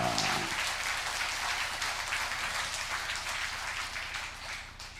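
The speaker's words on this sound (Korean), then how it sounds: "여러분이 칠 수 있는 최고의 박수를 하나님께 드리겠습니다." A church congregation at a Sunday worship service claps together, loud sustained applause that fills the room for about five seconds before easing slightly at the end.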